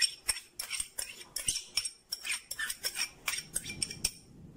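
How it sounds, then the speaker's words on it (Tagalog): Soy sauce and oyster sauce being mixed in a large mixing bowl for pork barbecue, with a quick, irregular run of close utensil clinks and scrapes against the bowl, without talk. "sa isang malaking mixing bowl, paghahaluin-haluin lang po natin lahat ng ating condiments"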